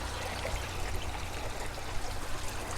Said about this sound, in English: look how the air comes through here. Plenty air bubbles in here.